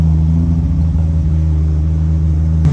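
A big-turbo RB30 engine in a Nissan S14 idles high, a loud steady low rumble with a constant drone throughout, no voices.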